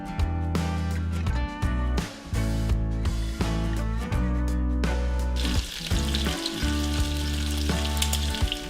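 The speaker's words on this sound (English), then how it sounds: "While our bacon is cooking" Bacon sizzling and frying in a pan, a steady loud crackle and spatter throughout with occasional clinks of utensils, no talking.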